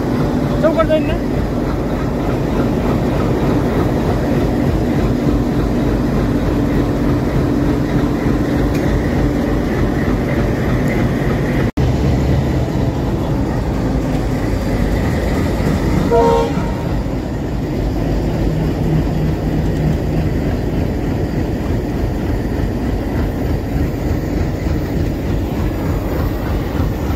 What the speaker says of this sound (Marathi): हे पहा, बीडच्या दिशेने ट्रेन चाललेली आहे.